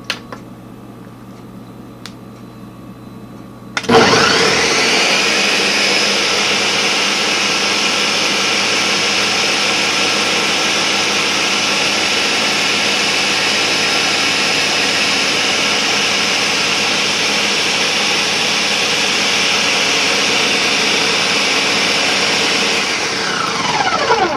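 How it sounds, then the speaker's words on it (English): A blender churns banana, grapes and dates into ice cream. Its loud, steady motor whine starts abruptly after about four seconds, holds evenly for roughly twenty seconds, then winds down. "I'm going to go ahead and blend it some more."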